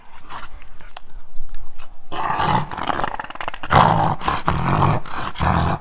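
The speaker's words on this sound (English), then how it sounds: "Then I heard a dog." Deep, rough growling and snarling from a large angry dog, loud and close, in sustained bursts that grow fuller and more intense partway through.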